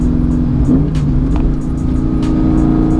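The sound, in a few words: Ford Mustang GT engine revving out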